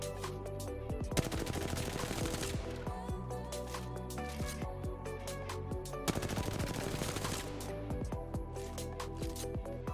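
Sustained automatic gunfire in a video game during an anti-recoil test, rapid continuous shots in two long bursts over layered game sounds, no talking.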